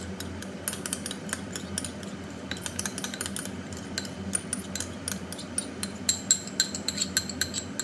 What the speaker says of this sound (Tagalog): ihalo lang natin sa ating hiniwang sisig